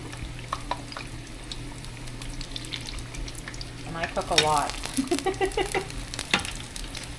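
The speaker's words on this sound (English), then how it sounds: "I definitely haven't perfected the frying method." Battered pompano fillets frying in tempura batter in hot oil, a steady crackling sizzle with occasional stirring clinks and bubbling, while a person talks briefly over the cooking.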